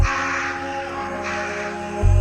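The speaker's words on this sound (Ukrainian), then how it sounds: "Ворони кружать" Crows caw repeatedly over a steady low hum and background noise, moderately loud.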